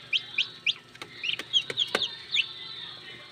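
Newly hatched chicks in a homemade DIY incubator give a run of high, thin cheeping peeps, several quick chirps spaced unevenly across a few seconds, close and clear over a low hum.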